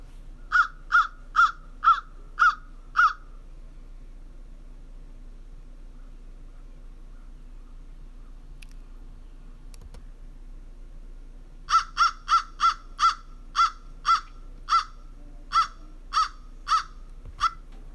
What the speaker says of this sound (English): Those are both crows from Florida.